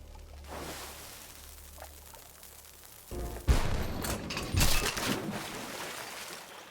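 Cannon fire in the video game Das Geheimnis des Wächterordens: after a quiet stretch, a loud burst of booming shots erupts, followed by a second heavy volley and crackling blasts, all fairly close.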